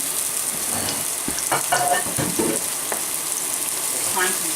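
Salisbury steak patties browning in a pan give off a steady, close hiss of frying, with scattered knocks and scrapes of handling over the sizzle.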